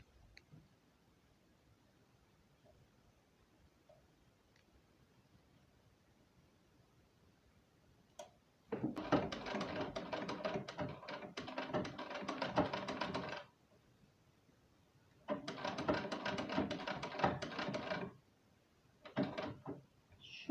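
A domestic sewing machine with a straight-stitch foot runs across fabric for a nursing cover in two long bursts and one short one, a close rapid mechanical whir between quiet pauses, with no talking.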